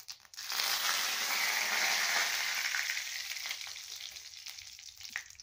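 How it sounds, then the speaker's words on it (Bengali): Dry red chillies, cumin and curry leaves are tempered in hot oil for a cauliflower paneer curry. A loud, close sizzle bursts up at once, then slowly settles into a steadier, softer crackle. "শুকনো লঙ্কা তেল দিয়ে ফোড়ন দিচ্ছি"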